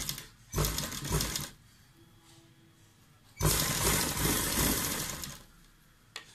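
A sewing machine runs while stitching a fabric sleeve, in two close, steady whirring bursts with a quiet pause between them and a short start at the end.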